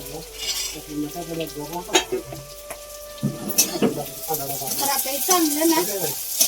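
Spices with coriander and turmeric stirred and frying in a pan in a home kitchen, a steady close sizzle with scraping strokes while someone talks over it.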